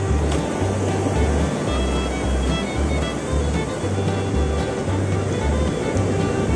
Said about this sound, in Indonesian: Ombaknya lumayan ya bos.